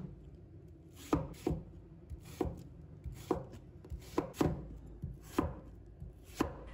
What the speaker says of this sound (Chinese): 再把它切成厚片